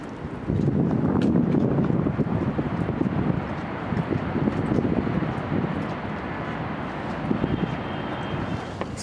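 Wind gusts on a wet, windy day in New York, a rough buffeting roar that swells strongly in the first seconds, then settles into a steadier blustery rush with scattered faint knocks.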